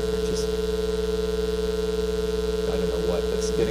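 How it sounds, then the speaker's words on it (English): A synthesized concert-A sine tone ring-modulated by a slow sinusoid, giving a steady, continuous pair of close pitches that beat against each other, with faint scattered noises near the end. "I hear two pitches, but I also hear beating at the same time"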